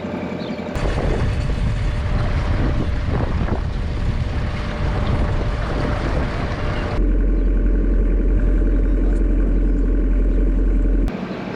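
A fishing boat's engine runs steadily at dawn on a mackerel trip, a loud continuous low drone with wind buffeting the microphone, the tone shifting partway through to a deeper, steadier throb as the boat heads out.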